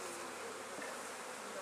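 Honey bees buzz steadily and closely throughout an autumn hive inspection, a dense continuous drone with no talk over it.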